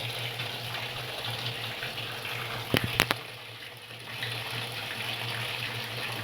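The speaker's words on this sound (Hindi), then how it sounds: "अभी मशीन में हम पानी डाल लेते हैं।" A washing machine fills with water: water runs steadily into the drum with a soft gushing hiss and a low hum, interrupted briefly by a couple of sharp clicks.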